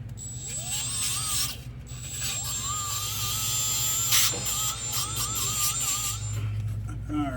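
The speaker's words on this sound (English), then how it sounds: "Now I'm just gonna take a little tool just to clean up the surface right here on these faces" A small hand tool scrapes and clicks against the gasket faces of a Ram 5.7 Hemi exhaust manifold mount, giving close, uneven mechanical scratching with a faint high whine running through it.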